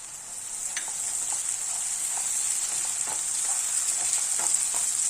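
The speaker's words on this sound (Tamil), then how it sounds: "நம்ம இந்த ஸ்டேஜில் இஞ்சி பூண்டு விழுது சேர்த்துடலாம்." Ginger garlic paste sizzles steadily in hot oil with golden brown onions, a close, continuous frying hiss broken by soft clicks of stirring, with no voices.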